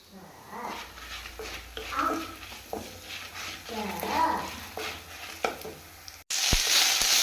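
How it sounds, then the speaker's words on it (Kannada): Urad dal, coriander seeds, cumin and pepper roast in a pan, giving a steady low sizzle with stirring scrapes beneath a voice talking over it, then a sharp louder burst of sizzle near the end. "ಉದ್ದಿನಬೇಳೆ, ಕೊತ್ತಂಬರಿ, ಜೀರಿಗೆ, ಮೆಣಸು ಇಷ್ಟು ಹಾಕಿ ಚೆನ್ನಾಗಿ ಹುರಿತಾ ಇದ್ದೇನೆ."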